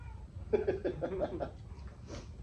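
A pet cat meows in a quick run of short, repeated calls close by during a household lunch of sautéed mung beans, followed by a softer cry and faint room noise.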